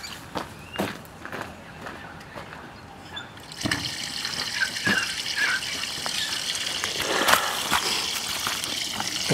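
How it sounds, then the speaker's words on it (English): Water runs from a hose into a pipe, starting as a faint trickle with scattered knocks and then swelling into a steady gushing rush that continues to the end, close and without talk. "you can put it down your pipe and turn the water on"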